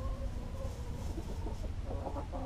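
Buff hen clucking in a backyard flock, soft low murmuring clucks near the mic over steady outdoor background noise, a few brighter calls toward the end.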